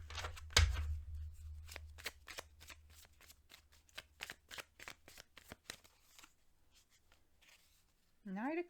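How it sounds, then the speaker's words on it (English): Rapid papery flicks of tarot cards being shuffled up close, a quick riffle of crisp snaps, ending with a brief voice. "Let's give them a little shuffle."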